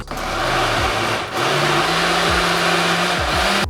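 A blender whizzes vegan dressing ingredients with salt and pepper, a loud whirring motor that surges, dips briefly, then restarts with pitch slides as the load shifts, alone without talk.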